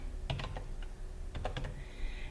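Number typed on a computer keyboard, two quick clusters of close, crisp key presses with a short pause between them.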